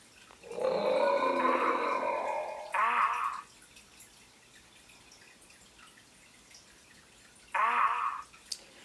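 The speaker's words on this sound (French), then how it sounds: "J'entends un tigre rugir." A tiger gives a long, rumbling roar, then two shorter, louder roaring growls a few seconds apart, each standing alone against quiet background.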